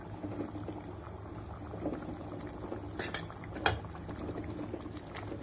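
Soft, steady bubbling of water at a low simmer in a pot for a village-style country chicken fry, with a few small pops and clinks near the end; quiet and close.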